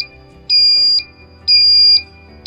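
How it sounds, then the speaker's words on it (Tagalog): An AMF bowling machine chassis buzzer sounds twice on power-up, loud piercing electronic tones each lasting about half a second, separated by a brief pause. "So ayan, nagka-power na siya at meron siyang buzzer."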